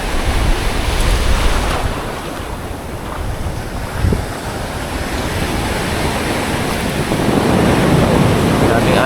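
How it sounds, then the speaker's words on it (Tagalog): Ocean surf rolls and crashes steadily along a shallow shore while strong wind buffets the microphone, a continuous loud wash of breaking waves with no speech. "Daming alon guys."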